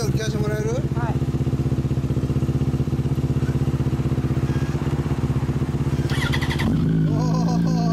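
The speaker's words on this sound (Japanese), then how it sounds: "テルミ、おー、エンジンを聞かせてもらえる？" A 2004 Yamaha YZF-R1 with a Termignoni exhaust idles with a deep, steady pulsing rumble close by, then revs up sharply near the end; voices talk briefly over it.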